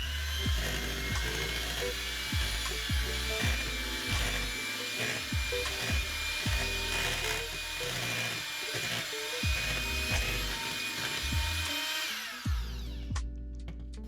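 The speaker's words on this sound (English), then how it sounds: "When you're beating these right after putting them in, make sure you do not overmix" An electric mixer beats eggs into cheesecake batter, whirring steadily and loudly for about twelve seconds with repeated rhythmic clunks as the beaters knock the bowl, then it cuts off.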